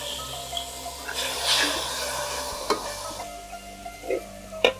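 Chilli powder frying in oil in a pan for Cherthala-style chicken perattu, with a soft sizzle under scraping stirs and a few sharp clacks of the spoon against the pan.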